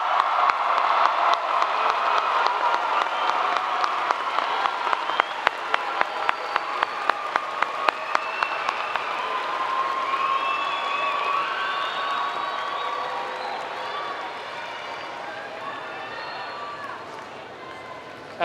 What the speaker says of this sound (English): Once again, a round of applause for the class of 2017.